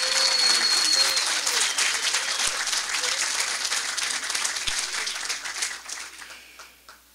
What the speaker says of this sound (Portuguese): Uma grande salva de palmas aos empossados.